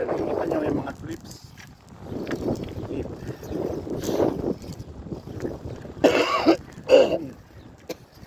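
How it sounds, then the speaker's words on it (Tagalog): A person outdoors on a cold morning in Berlin coughs and clears their throat in several rough bursts amid wind buffeting the microphone, with a louder pair of coughs near the end. "may ubo-ubo lang"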